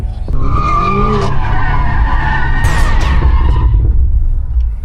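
A BMW M5 F90 drifting produces loud, continuous tire squeal with wavering pitch over a deep engine rumble, close and sustained for the whole stretch.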